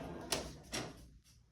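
A drawer on a Husky 41-inch garage toolbox slides open with two faint metallic rolling swishes, quiet and close with no voices.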